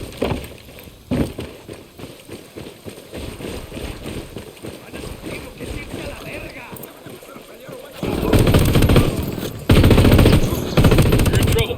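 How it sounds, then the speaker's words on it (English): Gunfire in the game Tom Clancy's Ghost Recon Wildlands, with rapid automatic bursts and shots amid outdoor ambience, growing louder and denser toward the end, with voices talking. "Opening fire."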